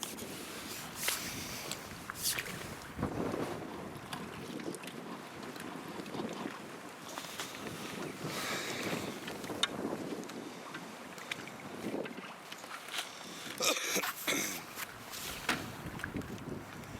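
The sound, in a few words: biting easterly wind blowing over water while boat fishing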